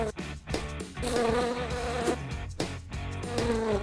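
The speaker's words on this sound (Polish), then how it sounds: "O, pszczoła! Sio!" A bee buzzing close by outdoors during a badminton game, a steady droning hum that wavers in pitch and dips briefly a couple of times.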